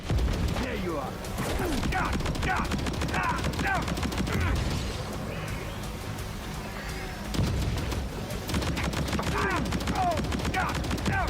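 Dense bursts of gunfire and explosions from Death Stranding 2 rattle on almost without a break for about eleven seconds, loud and busy, with a voice talking over parts of it.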